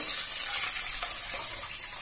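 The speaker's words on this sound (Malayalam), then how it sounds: "ഞാൻ 6 കപ്പ് വെള്ളം ചേർത്ത് കൊടുക്കുന്നുണ്ട്" Water pours steadily into a pot of parboiled rice biryani, a continuous close hissing splash with a faint simmer beneath it, heard alone without speech.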